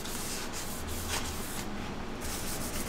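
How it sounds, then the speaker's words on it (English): Steady, dry scratching of sandpaper rubbed over a cured resin surface, a continuous close abrasive hiss with no pauses and no talking. "it's scary sanding a surface down"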